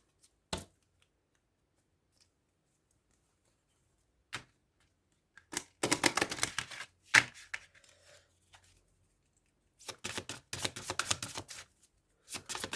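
Tarot cards are shuffled and drawn in short, crisp bursts of riffling and snapping, separated by quiet pauses.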